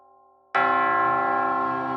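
Church tower bells in an 800-year-old tower in Newton Abbot ring out together, a loud sudden peal after a faint hum, sustained and rich with overlapping tones.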